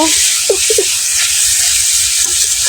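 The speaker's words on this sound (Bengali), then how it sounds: "এই যে ভাজি করতেছি করলা ভাজি" Bitter gourd (karela) frying in a pan gives a steady, loud hiss and sizzle, with a few brief clinks or stirring sounds near the start and end.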